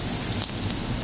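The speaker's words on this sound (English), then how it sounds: "Damn you, rain!" Heavy rain pours during a storm, a dense, loud and continuous hiss of drops close by with no pauses.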